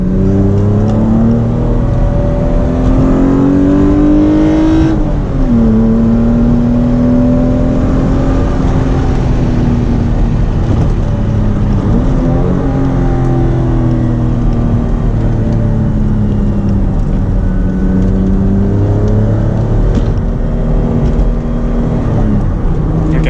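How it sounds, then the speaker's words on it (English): A V6 Toyota MR2 is driven hard on a wet mountain road, its engine droning loud and steady from inside the car as the pitch climbs through gear changes and drops under braking, with no voices. "First gear. Second gear. Braking."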